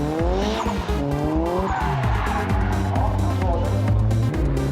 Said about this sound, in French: Son pilote a effectué une excellente série de dérapages